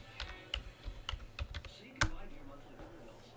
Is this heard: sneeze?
no